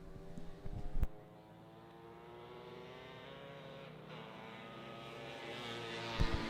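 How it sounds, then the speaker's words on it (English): ATVs racing on a track at the Canadian Power Toboggan Championships, a steady, distant, buzzing engine drone that rises and falls gently, with a couple of short sharp bangs at the start and end. "Pretty lightweight, these ATVs, and lots of horsepower, and they are getting it down on the track here."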